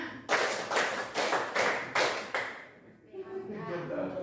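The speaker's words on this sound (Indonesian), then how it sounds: "Tepuk 5." A class of students claps in unison five times during a maths counting game, sharp, evenly spaced group claps close by, followed by a pause and a teacher's voice speaking.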